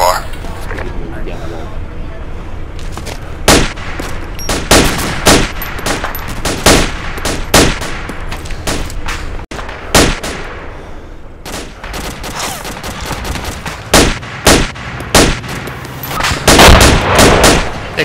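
Gunfire in the tactical combat game ARMA 2 cracks in sharp, uneven bursts and single shots, loud and close, mixed with distant booms while voices talk over the firing.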